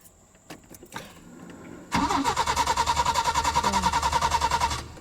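A Peugeot 505 V6 engine cranks after a few faint clicks, the starter whirring in a steady rapid rhythm for about three seconds, loud and close, without the engine catching.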